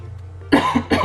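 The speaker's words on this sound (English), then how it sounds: "Sorry, I'm still coughing." One person coughs twice in quick succession, loud and close, over a low steady hum.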